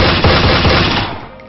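Gunfire from a Unity3D open-world survival shooter game, a loud burst of rapid shots lasting about a second before tailing off into a short decay.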